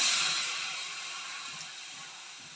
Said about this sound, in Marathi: आता यामध्ये आपण टाकूयात एक कप गरम पाणी